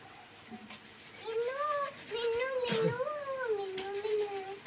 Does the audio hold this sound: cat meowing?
yes